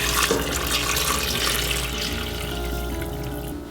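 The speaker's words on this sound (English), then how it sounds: "We're going to cover this with water. I happen to have some warm water" Warm water pouring into a pot while making menudo, a steady, full rushing stream that gradually eases and thins toward the end, close and alone with no talking.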